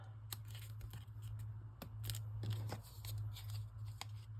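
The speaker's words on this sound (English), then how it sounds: "I will put some glue on there, and then I'll cut it to size once we get it placed." Scissors snip paper to size for a handmade book, a run of short, crisp cuts at close range over a low steady hum, with no talking.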